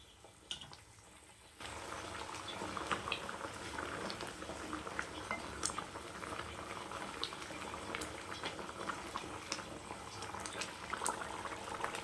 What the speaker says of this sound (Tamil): நல்லா கொதி வரட்டும்